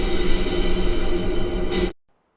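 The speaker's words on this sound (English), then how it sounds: "we're going to run it through a really long plate reverb, so it sounds like this" A percussion loop washed through a very long plate reverb becomes a dense, sustained shimmering wash that holds steady, then cuts off abruptly into near silence, with no voices.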